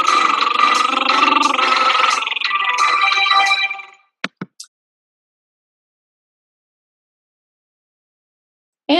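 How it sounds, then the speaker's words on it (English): A singer's lip roll vocal exercise, a buzzy fluttering voiced tone sustained for about four seconds, then a few brief clicks and near silence. "learn how to do a nice lip roll"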